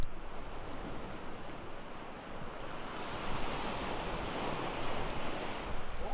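Surf breaking steadily on a beach beside a deserted island, a broad continuous wash of waves with soft swells and some wind buffeting the microphone, no voices.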